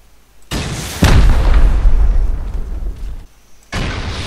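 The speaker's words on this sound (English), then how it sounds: "I heard explosions." Explosions in the video game Rust, heavy booming blasts with deep rumbling tails, one sharp burst followed by a louder sustained boom and a further blast near the end, loud and close.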